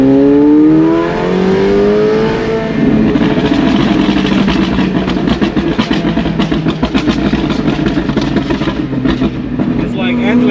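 A high-powered car, around 1000 hp, revs and shifts up through the gears with a string of exhaust pops and crackles. Engine drone rises and falls, with rapid popping bursts carrying close and loud throughout.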